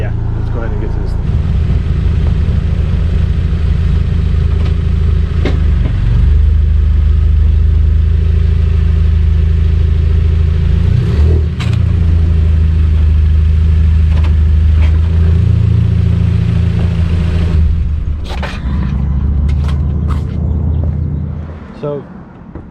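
A Genesis Coupe engine idles while warming up, a steady close low rumble with a brief rev in the middle and a voice talking over it, easing off toward the end.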